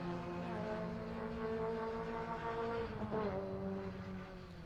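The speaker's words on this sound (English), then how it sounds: "As we see footage now of the cars coming through here" Rally cars come through a special stage at the Harlech Stages, with engine roar rising and passing at a moderate distance and a brief sharp revving swoop near the end, no voices.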